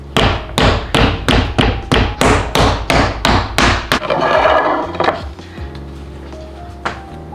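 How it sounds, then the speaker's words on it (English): Meat tenderizer hammer pounding gluten-free dough on a cutting board: about a dozen sharp, evenly spaced thuds for four seconds, then softer scattered knocks and a rustle as the pounding stops. "Use this meat tenderizer hammer to pound the dough."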